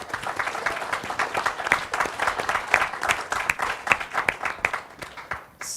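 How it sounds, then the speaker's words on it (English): An audience at a disability advocacy organisation's AGM breaks into sustained applause, dense and steady clapping from a roomful of people that fades out at the end. "give the whole membership and all of PWD a round of applause for that one."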